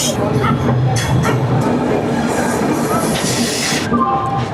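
Train rolling into Varanasi Junction station in India, a steady loud rumble of wheels and carriages with clattering, murmur of people and a dog barking in the busy platform surroundings.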